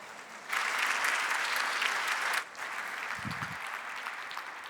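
An audience at an evening science talk in an aquarium gives strong applause for a guest speaker, a sustained burst of many hands that swells, then continues slightly softer with a brief low thump.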